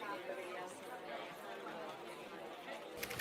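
A steady murmur of many people chattering in an office, voices blending into a continuous background hum, with a brief sharp clatter near the end.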